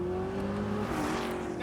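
A Corvette ZR1 V8 engine revs up with a rising, high-pitched scream, loud and close, with the pitch climbing and dipping over the short burst.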